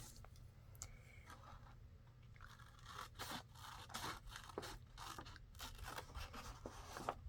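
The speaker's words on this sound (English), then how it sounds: "Now I'm going to cut this end off and this end off on the top and bottom both." Scissors trim the top and bottom ends off a book page, giving faint, close snips and papery scrapes over a low steady hum, with no voices.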